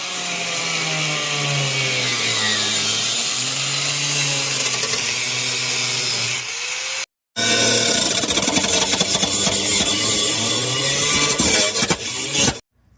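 A power tool cuts rusted metal out of a Mustang's body panel, giving a loud, steady, grinding whine. It runs as two long continuous stretches separated by a brief pause.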